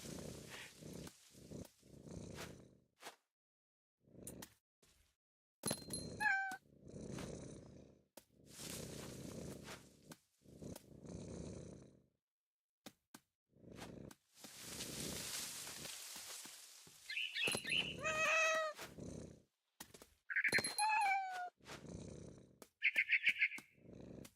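A cat in a horror video game purrs in rhythmic, rasping pulses broken by short gaps, then lets out several rising and falling meows near the end, close and fairly loud, with no talking.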